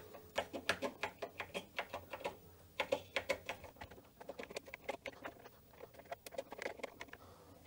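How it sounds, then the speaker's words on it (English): Keys clatter on an Osborne 1 computer keyboard during a key-by-key test, a quiet run of distinct close clicks in quick bursts with short pauses between them. "I haven't done a real keyboard test, so let's see if all the keys are working."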